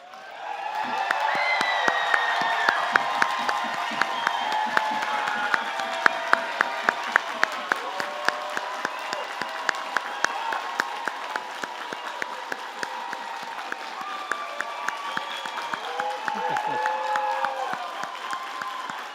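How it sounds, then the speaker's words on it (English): A commencement crowd at Oregon Tech gives a standing round of applause, sustained clapping with cheering and whoops rising above it, alongside sharp stomps or thumps at intervals over nearly twenty seconds. "we are going to bring the house down with a final round of applause, not a polite applause, but a standing, stomping, yelling, enthusiastic round of applause"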